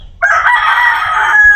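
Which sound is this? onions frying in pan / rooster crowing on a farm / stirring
rooster crowing on a farm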